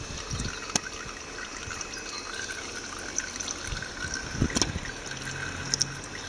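Engine oil poured into the filler of a Zontes Scorpion 125cc motorcycle during an oil change, a faint steady trickle with a few small clinks and knocks over a low background hiss.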